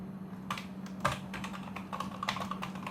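Quick, uneven keystrokes on a computer keyboard while a command is entered during an Arch Linux install on a UEFI PC, close up over a steady low electrical hum.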